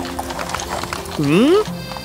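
A horse pulls a cart with clip-clopping hooves, and a short neigh rises over the steps near the middle, all under continuous narration.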